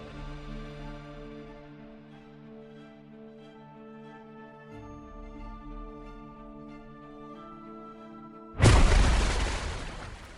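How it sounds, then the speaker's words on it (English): A torpedo explosion effect on the Universal Studios submarine tour: a long, low, humming tonal drone builds for several seconds, then a sudden loud, close blast erupts and slowly decays into a rumbling roar. "that we believe the explosion was from a torpedo"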